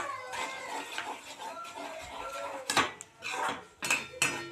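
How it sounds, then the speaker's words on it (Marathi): Eggs stir-fried for anda bhurji in a pan, the spatula scraping and clinking against the metal in irregular bursts, with soft sizzling underneath and a few sharper clattering strikes toward the end. "यात आपण अंडे टाकून घेणार आहोत चांगलं परतून घ्यायचं आहे"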